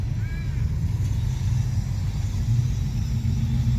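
Cars roll into a Cars and Coffee meet at Tonsley, a steady low engine rumble and road noise at moderate distance filling the whole stretch, with a faint voice briefly in the background.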